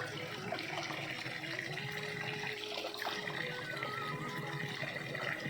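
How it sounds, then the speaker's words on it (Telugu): Drinking water from a natural spring streams steadily and continuously, a close, even rushing flow with no pauses, like a spring spilling over rocks. "ఇది మా త్రాగునీరు ఇది అనమాట ఊటి నీరు"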